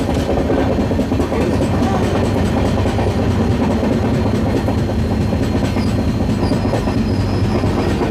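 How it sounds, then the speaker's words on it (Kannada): The Basava Express rolls into Hindupur railway station in the evening, its wheels clattering steadily and loudly over the rails for the whole stretch, with faint squeals riding over the continuous rumble and no talk. "ನಮ್ಮ ಬಸವ ಎಕ್ಸ್ಪ್ರೆಸ್ ಇವಾಗ ಎಂಟರ್ ಆಗೈತ್ರಿ ಹಿಂದೂಪುರ ರೈಲ್ವೆ ಸ್ಟೇಷನಿಗೆ"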